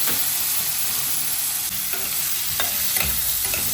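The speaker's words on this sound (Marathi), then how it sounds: "टोमॅटो पण 1 ते 2 मिनिट परतून घ्यायचं आहे आपल्याला" Chopped tomatoes sizzle loudly in hot oil for a fish curry, a constant close frying hiss with a few soft scrapes as they are stirred, and no voices.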